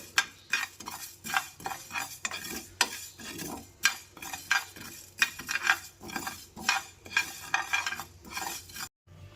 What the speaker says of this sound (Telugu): ఆవాలు మెంతులు బాగా దోరగా వేగిపోయాయండి